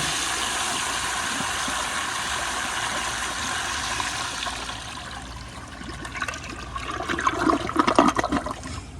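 A 1998 American Standard Spacesaver Cadet toilet fitted to a flushometer gives a strong, steady rushing flush. Toward the end it turns into louder gurgling and swirling water, close and alone.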